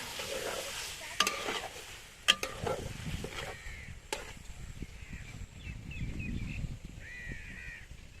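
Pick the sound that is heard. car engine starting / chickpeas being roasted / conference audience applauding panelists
chickpeas being roasted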